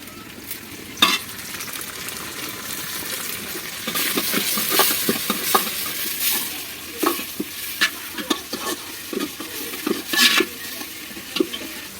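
Mint leaves sauté with onions in a pan for chicken biryani, giving a steady oily sizzle broken by a run of sharp scrapes and clacks as a spoon stirs and knocks against the pan.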